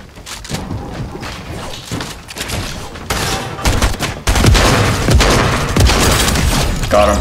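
Dense, loud bursts of automatic gunfire from a Fortnite battle rattle on without pause, building heavier in the second half with thumping impacts mixed in.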